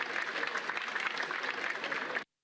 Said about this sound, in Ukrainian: А в самій Держдумі Росії новину про перемогу зустріли з оплесками.